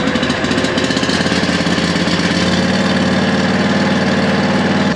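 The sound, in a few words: small gasoline engine running at full throttle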